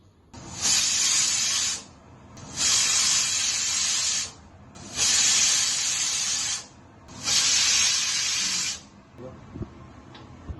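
A pressure cooker boiling chicken lets off four long, loud hissing whistles in a steady rhythm, each lasting about two seconds and separated by short pauses.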